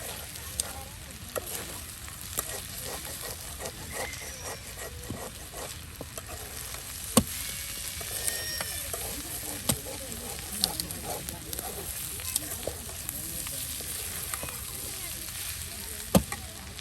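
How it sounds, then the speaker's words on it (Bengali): Potatoes fry in a pan over a wood fire outdoors, a steady dry sizzle with occasional scraping stirs and small clicks throughout. "আলু কিন্তু একদম ঝরঝরে ভেজে নেওয়া হলো"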